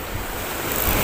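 Ocean waves wash against the shore at a fishing spot with strong current and surf, a steady broadband roar with wind buffeting the microphone, no voices.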